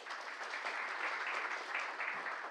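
Applause from an audience at a community meeting on labor and employment, a steady patter of many hands clapping at moderate volume for several seconds.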